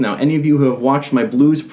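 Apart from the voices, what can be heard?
No everyday noises stand out.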